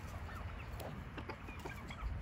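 Backyard chickens cluck softly in the rain, a few short murmured calls standing over a steady wash of rainfall.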